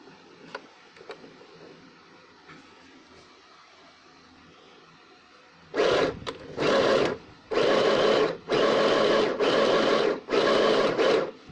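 A sewing machine stitches shut the opening of a fabric scrunchie, coming in after a quiet stretch as a series of loud, rapid whirring bursts separated by short pauses.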